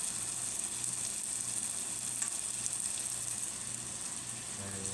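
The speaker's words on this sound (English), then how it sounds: "I'm gonna put this on a low simmer." Sauce sits on a low simmer, giving a soft, steady sizzle and gentle bubbling at low volume, with a faint repeating low hum beneath it and no one speaking.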